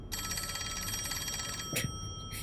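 A direct-line telephone in the video game Rain Code rings with a continuous electronic trilling bell for most of the stretch, then cuts off with a brief clunk and short bright chime at the end.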